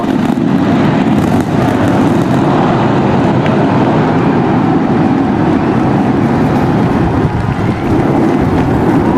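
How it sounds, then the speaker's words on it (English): SpaceX Starship Flight 8 lifting off, heard as a loud, continuous broadband roar with deep rumble that holds steady for the whole stretch, alone without voices. "We got liftoff."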